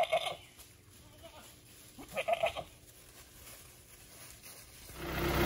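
Goats bleat in a couple of short bursts at close range, with quieter farmyard background between calls.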